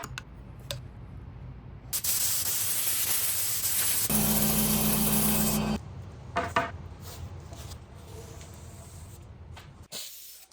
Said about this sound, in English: So now to spray it with white paint.